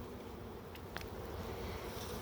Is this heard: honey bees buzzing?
yes